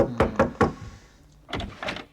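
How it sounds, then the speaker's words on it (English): Three sharp knocks hit a door in quick succession, followed after a pause by a second cluster of heavier thuds, all loud and close with no voices. "there was a loud knock on the door"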